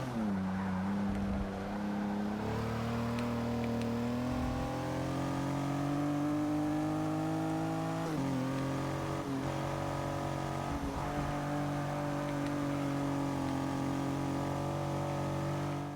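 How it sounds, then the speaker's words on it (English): A Pontiac Aztek races and drifts around a track in Forza Motorsport 6, its engine droning steadily at high revs with brief dips at gear changes and faint tire squeal, continuous and loud without talk. "But when have you ever seen a drifting Pontiac Aztec?"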